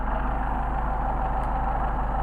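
Engine of a Mercedes 190SL with Solex carburetors running steadily at a raised, even speed while the carburetor is adjusted; a close, continuous hum with a low, regular pulse.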